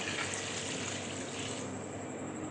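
Water pours steadily in a continuous splashing stream into a cooking pot of boiled chickpeas for pulao.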